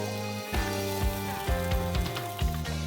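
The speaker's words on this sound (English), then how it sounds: "Over medium-high heat, stir-fry the onions." Onions stir-fry in a pan over medium-high heat, a soft continuous sizzle under a musical backing, with stirring surges at regular intervals.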